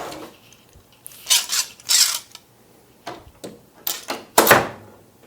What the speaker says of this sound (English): And put a clamp on the back of both of those.